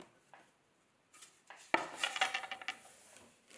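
A thick, heavy clay plate is flipped upside down between wooden bats, a quiet pause, then a soft knock followed by a short patter of close, dull wooden contacts and shuffling.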